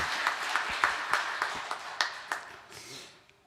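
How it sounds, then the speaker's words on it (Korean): Applause from a church congregation during a Sunday worship service, a broad wash of clapping with sharp individual claps standing out, fairly distant and tapering off toward the end. "다시 한번 우리 하나님께 큰 영광의 박수 한번 드리겠습니다."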